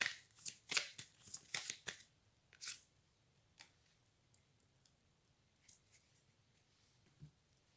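Playing cards are shuffled in quick, crisp riffling bursts close by for about two seconds during a card reading, followed by sparse, softer card taps and flicks.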